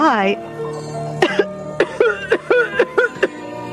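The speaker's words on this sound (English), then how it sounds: "another deep cough racked his body" A deep cough erupts in a string of harsh, rhythmic bursts, close and loud, following a short vocal sound.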